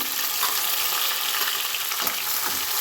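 Onion and green chilli frying in hot oil with mustard seeds, cumin and chana dal for vegetable upma, a close, steady crackling sizzle with a few light stirring scrapes.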